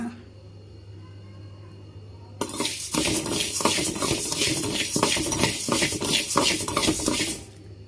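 A spoon scrapes and stirs through spices roasting in a pan for homemade rasam powder, with steady clinking, rhythmic strokes that start after a quiet stretch and carry on loudly until near the end.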